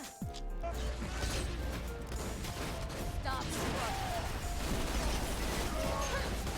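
Multi-pellet gun firing in a Borderlands game: a dense, continuous clatter of shots and impacts, close and fairly loud, mixed with game noise throughout and a quick sweeping tone at the start.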